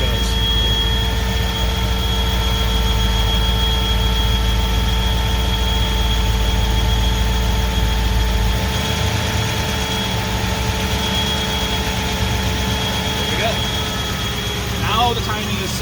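A Ford 302 5.0 V8 built as a 342 stroker, fitted with Microsquirt EFI, runs steadily as its ignition timing map is switched, a loud continuous engine drone whose low rumble shifts partway through.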